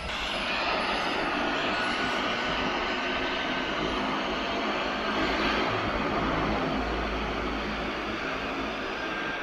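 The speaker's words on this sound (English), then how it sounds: "Oh, it's an airplane." A seaplane flying overhead near Vancouver, a steady broad engine roar that stays loud and constant throughout with no talk.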